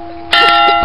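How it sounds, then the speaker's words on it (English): A bell rings loudly with sustained metallic tones, a clang starting partway through and ringing on steadily. "it's ringing the bell."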